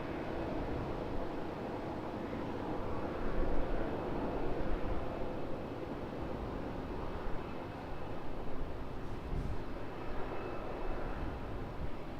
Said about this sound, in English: Virgin Australia 737-800 taxiing out, as you can hear